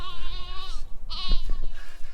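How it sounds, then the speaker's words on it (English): A lamb stuck on the wrong side of a fence at lambing time bleats loudly and close, two wavering calls with a short gap between them, followed by faint rustling. "there's actually a lamb that's decided it's the wrong side of the fence"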